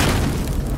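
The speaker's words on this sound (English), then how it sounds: "Then the donuts exploded!" A deep booming explosion from donuts shot in the game Battlefield Hardline, a loud, dense low rumble filling the whole short moment with no distinct onset, heard alone.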